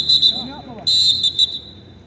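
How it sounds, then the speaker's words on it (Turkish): A football referee blows a whistle at a match, giving a few short shrill blasts followed by a longer burst and two quick toots, with a commentator's voice faint underneath. "Hakemin düdüğü var."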